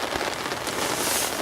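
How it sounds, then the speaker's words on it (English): Heavy rain pours down steadily beside a flooded river, a dense, loud hiss of drops hitting surfaces with no voices present. "It's still lashing down with rain now."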